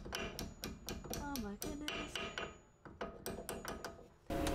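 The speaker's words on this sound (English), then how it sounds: "so you can get in there with a hammer" Hammer tapping on a brake pad pin of a 1983 Mercedes 380SL, a run of sharp metallic strikes in an irregular rhythm, close and fairly loud, with a short ringing tone partway through.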